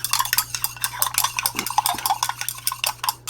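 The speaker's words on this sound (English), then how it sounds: "Mix it well." Rapid stirring of a sweet almond oil facial toner mixture in a container, a busy clinking and scraping rhythm that runs continuously and close, with a low steady hum beneath and no talking.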